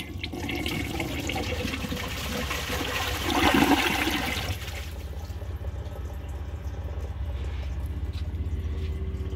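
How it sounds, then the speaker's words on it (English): A Kohler Rialto Ingenium toilet flushes up close, a loud rushing surge of water peaking then draining into a quick siphon, followed by a steadier trickle of refilling water. "It's got a pretty nice flush. It's very quick and it siphons very fast"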